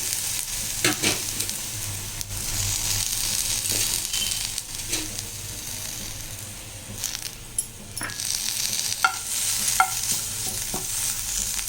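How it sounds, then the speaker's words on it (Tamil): Curry leaves roast in a pan over a raised flame for homemade rasam powder, giving a steady close sizzling hiss broken by repeated scraping stir strokes and small clicks, with no talk. "இப்போ இதிலே வந்து நம்ம கருவேப்பிலையை வறுத்துக்கலாம்"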